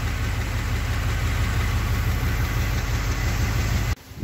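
A K5 Blazer truck engine with a suspected cylinder head or head gasket problem runs steadily at a loud, close, rumbling idle, then cuts off abruptly near the end.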